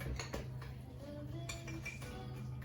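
A spoon scoops yogurt from a container while making a savory cake batter, giving a few soft clinks and scrapes against the dish, quiet and close with no talk.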